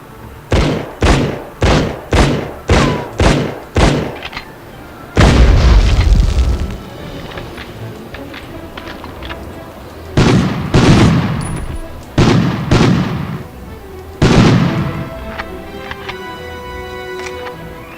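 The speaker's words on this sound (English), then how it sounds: "A lot of rounds going on here." Heavy gunfire in the Medal of Honor video game: a rapid burst of loud, evenly spaced shots opens, followed by a booming blast and several more sharp, echoing reports spread out over a low rumbling battlefield background.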